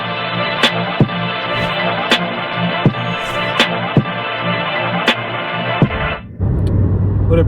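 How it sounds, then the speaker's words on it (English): Steady broadband road and engine rumble from inside a moving car, with faint periodic ticks over the drone before the noise drops abruptly and shifts near the end. "I'm in the middle of driving"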